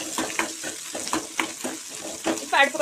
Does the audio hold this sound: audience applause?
no